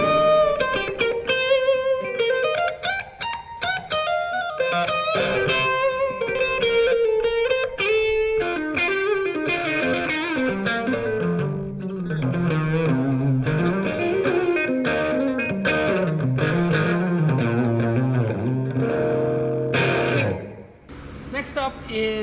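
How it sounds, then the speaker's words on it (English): Clean, slightly gritty electric guitar through a NUX Mighty Space AC amp model, playing bluesy single notes and chords, with a springy reverb tail washing behind the phrases. "I'm using an AC amp model with a bit of spring reverb."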